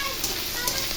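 Capsicum (bell pepper) sizzling in a pan with red chilli while egg sandwiches with chicken are cooked, giving a steady, close frying hiss with a couple of brief crackling bursts, no talking.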